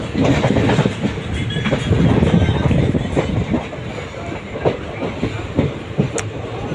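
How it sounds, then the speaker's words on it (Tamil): A passenger train on the Madurai to Rameshwaram line arrives at Paramakudi junction, its steady rumble and clickety-clack of wheels on rail joints continuing loud and close throughout, with faint wind noise over the microphone. "வண்டி எட்டரை மணிக்கு பரமக்குடி ஜங்ஷன் வந்திருக்கு வண்டி"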